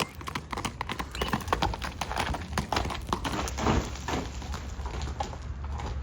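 A horse walks in a steady clip-clop rhythm, its hooves striking firm ground close by and moderately loud, with no other sounds competing.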